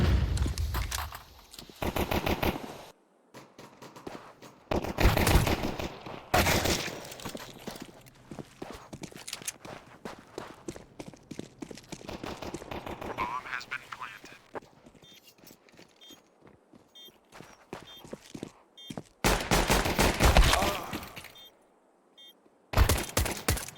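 Pistol-round gunfire in a Counter-Strike match, with bursts of sharp shots in several loud clusters separated by quieter stretches of footsteps and game ambience.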